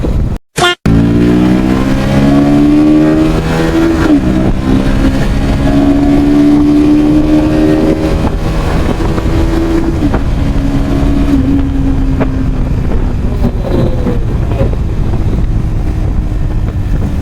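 Several V3 motorcycle engines roar out on an open road, a loud, sustained drone with rising and falling pitch as they rev and pass, buffeted by heavy wind noise, after a brief clatter at the start.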